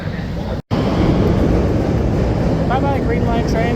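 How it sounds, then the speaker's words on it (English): A Chicago Green Line train pulls away from Roosevelt Station with a loud, steady rumble and rushing wind noise, broken by a brief dropout and some faint squeals near the end. "Bye-bye, green line train."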